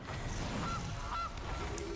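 Two brief synthetic goose honks from the Gilded Goose card in the digital card game Magic Arena, separated by about half a second and sounding over steady background game music.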